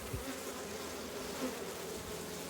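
Honey bees, including large stingless drones, buzz steadily around an open hive frame during an early-season inspection, a dense, continuous drone close by with no voices.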